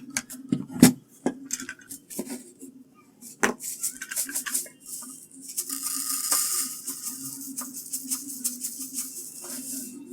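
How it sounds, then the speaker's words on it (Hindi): Dry fish food pellets poured and rattled into the small compartment of a plastic automatic fish feeder, with sharp clicks and taps first, then a sustained hissing patter of pellets, close up and loud. "ये फिश का फूड है, इसको मैं इसमें डालता हूँ। तो पहले मैं इसके छोटे वाला जो कंपार्टमेंट है इसमें ही इसको डालता हूँ"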